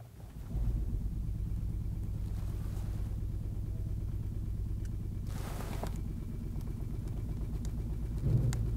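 Car with its rear axle on a shock absorber test bench in a workshop, a steady low mechanical rumble and vibration droning throughout, with a brief hiss in the middle and a small thump near the end.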